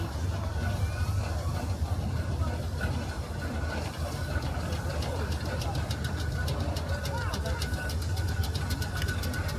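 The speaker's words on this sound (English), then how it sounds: "A Fowler steam tractor T3 type." A Fowler T3 steam tractor runs at a steam rally, a steady low mechanical rumble and chugging held at constant loudness throughout, with faint rapid ticking in the upper range and voices mixed in the background.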